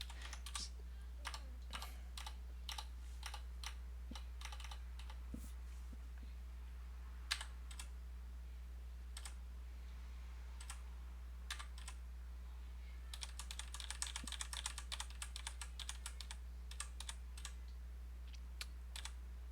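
Fingers type on a computer keyboard in scattered bursts of close, crisp key clicks, with a faster flurry near the end over a low steady hum.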